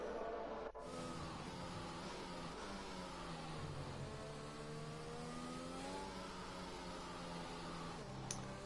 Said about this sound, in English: look at those cars slingering around the track, getting those tires on temperature